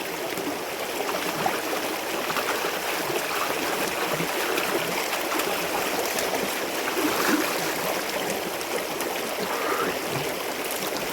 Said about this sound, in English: I'm washing my sandals.